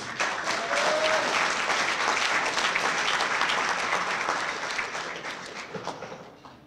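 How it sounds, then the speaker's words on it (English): A banquet crowd at a high school football awards night applauds the seniors in a dense, steady wash of clapping that holds for several seconds and then thins and fades at the end, with no one speaking over it. "Let's clap it up for the seniors."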